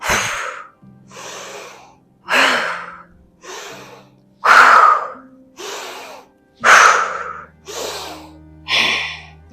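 Kundalini yoga breathing exercise: nine rapid, forceful breaths through nose or mouth, each a sharp rushing burst about a second apart, close and loud, alternating inhale and exhale, with soft background music underneath.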